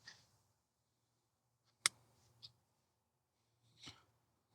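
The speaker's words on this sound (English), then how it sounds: "Cut off your tag end." Fishing line tag end clipped off while tying a wacky rig, heard as a few faint, sharp isolated clicks spaced across a quiet background, no talking.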